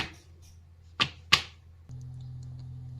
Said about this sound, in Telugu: ఇలా ట్యాప్ చేసుకోవాలి మొత్తం ఈవెన్గా స్ప్రెడ్ అయినంత వరకు.